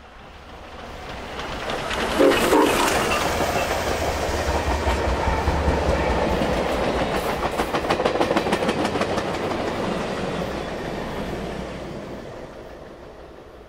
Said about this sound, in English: Norfolk Southern's Nickel Plate Heritage Unit is accompanying the Berk on today's test run